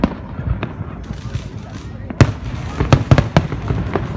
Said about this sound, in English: I'm recording fireworks right now.